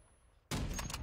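Gunfire in Apex Legends erupts abruptly after a quiet lead-in, a loud, dense burst of rapid shots that continues to the end of the clip with no talking.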